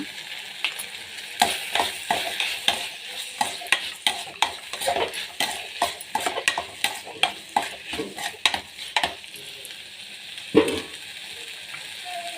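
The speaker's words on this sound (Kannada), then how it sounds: "ಕಾಯಿ ತುರಿ ಹಾಕೋಣ, ಕೊತ್ತಂಬರಿ ಹಾಕಿ ಫ್ರೈ ಮಾಡೋಣ." Grated coconut and coriander are stir-fried in a pan for a chapati side dish: a low sizzle runs under repeated sharp scrapes and clinks of a spoon against the pan, in an irregular rhythm.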